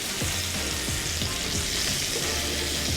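Cajun salmon fillets sizzle steadily in a hot frying pan, a dense continuous crackle with a few soft knocks as the fish is moved, close and fairly loud with no talking.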